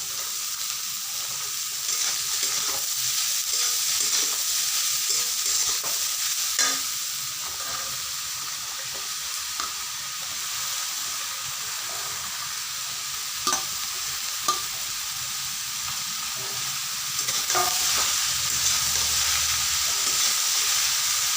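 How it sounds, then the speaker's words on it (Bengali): Bottle gourd pieces stir-fry in a pan for a shrimp and gourd dish, giving a constant hiss and sizzle of frying with occasional scrapes and knocks of the spatula against the pan. "এখন আমি লাউগুলোকে দিয়ে দিচ্ছি।"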